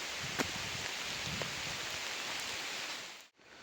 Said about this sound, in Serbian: Prolećna kiša, nije strašno.